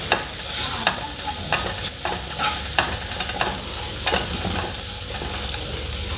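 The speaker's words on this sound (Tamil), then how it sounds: "இதை நல்லா மிக்ஸ் பண்ணி கொடுத்துக்கலாங்க." Chicken masala with onion and tomato being stirred in a hot pan, with a steady close sizzle and frequent scraping strokes of the spatula running throughout, with no voices.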